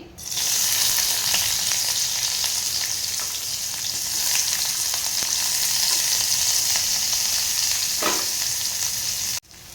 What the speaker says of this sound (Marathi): तेल आहे ते गरम झालेलं आहे, त्यामध्ये कांदा टाकून घेते